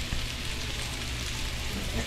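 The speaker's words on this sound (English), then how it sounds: "Right into that oil. Love that sizzle sound." Steady, dense crackling sizzle of fish frying in hot oil, loud and continuous with no pauses.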